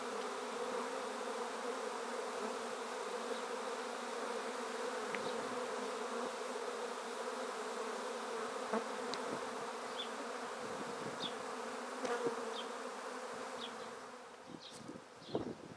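A swarm of honey bees buzzing continuously, a dense droning hum with occasional closer individual bees flitting past.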